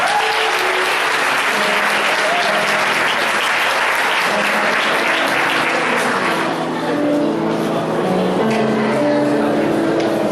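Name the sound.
church congregation applauding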